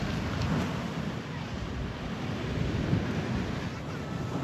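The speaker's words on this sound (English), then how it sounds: "The waves are starting to get a little bit rough." Rough ocean surf at Rehoboth Beach, a steady broadband wash of waves mixed with heavy wind buffeting the microphone, continuous and fairly loud with no clear breaks.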